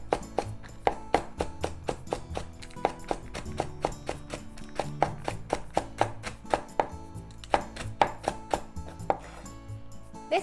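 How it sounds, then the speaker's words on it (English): A knife cuts leek into thin diagonal slices on a cutting board, with steady rhythmic chops, about two per second, that are crisp and close-up, with no voices. "Let's slice some leek first."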